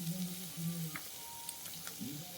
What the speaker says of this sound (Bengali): এই মশলা দিয়ে ভালো করে চিংড়ি মাছটাকে একটু কষে নিলাম